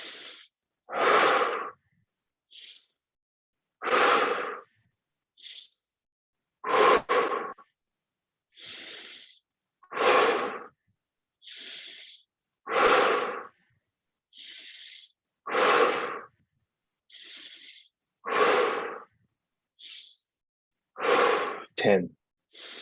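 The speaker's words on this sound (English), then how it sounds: "Inhale through the nose, exhale through the mouth." A slow, steady series of deep breaths, each drawn in through the nose and let out through the mouth, repeats about a dozen times at an even pace. The breaths are close and loud, with short silences between them.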